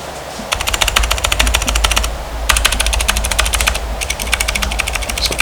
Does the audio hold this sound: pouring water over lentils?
no